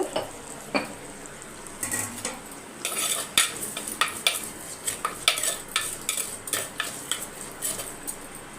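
Onions being sautéed in a pan for a sardine fish curry, with a metal spatula clinking and scraping against the pan in quick irregular strokes that grow busier toward the end, close by and with no talk.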